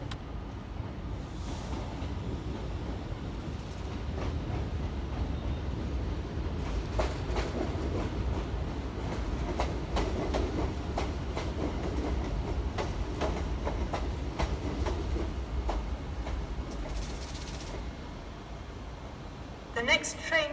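Class 730 electric unit 730-203 arriving at Crewe station from Nuneaton, a steady close rumble with rhythmic wheel clicks and clatter rolling on for about twenty seconds, ending in a few sharp knocks.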